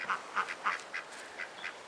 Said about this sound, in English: Quack, quack, quack, quack, quack. Hello, chooks. Hello, ducks.